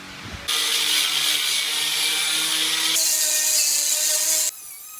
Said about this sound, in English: So Marcin and I have spent a little bit of time grinding this stuff back.